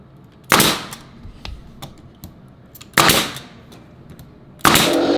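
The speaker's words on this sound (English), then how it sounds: "I'm going to nail it down with my nail gun" Three sharp pneumatic nail gun shots at roughly evenly spaced intervals, each a loud crack, as a strip of MDF is nailed down onto a floor between LVP and tile, with faint handling clicks between the shots.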